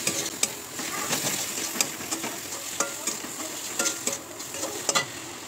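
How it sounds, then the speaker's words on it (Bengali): Prawns being sautéed with a spice paste in a pan, steady close sizzling punctuated by repeated sharp scraping and tapping strokes of a spatula every second or so, no voices. "আবার একটু কষিয়ে নেবো।"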